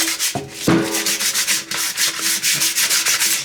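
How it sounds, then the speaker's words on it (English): Sandpaper scrubbed by hand across the outside of a craft bucket, a steady run of short rasping strokes in close rhythm, loud and near with no talking. "So I've gotten a little piece of sandpaper"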